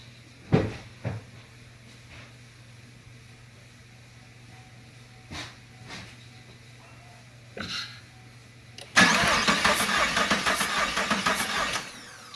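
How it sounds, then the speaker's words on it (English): A 2019 Chevrolet Camaro SS with a stuck fuel injector cranks and catches: a few scattered knocks give way near the end to a loud, sustained engine roar lasting several seconds, with no talking. "So now I'm going to get in there and hopefully it turns over"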